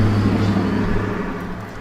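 Steady low rumble of road traffic with cars droning past in the background, continuous and moderately loud with no speech, heard during a Halloween episode of a basement radio show.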